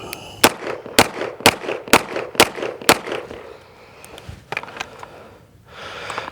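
A CZ Shadow 2 pistol fires six sharp, loud shots at an even pace during a carry optics triangle movement drill, followed by fainter scattered clicks and rustling as the shooter moves.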